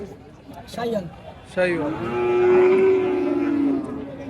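A Sahiwal bull at a cattle market in Muktagachha lets out a long, loud, drawn-out moo nearby after a shorter low call, with people talking in the background.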